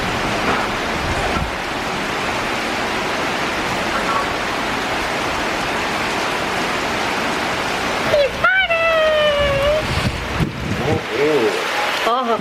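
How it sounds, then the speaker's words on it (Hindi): Heavy rain pours steadily in a dense, continuous hiss that fills the whole stretch, with a voice and some tonal whistling sounds breaking in near the end. "बहुत तेज बारिश आ रही है"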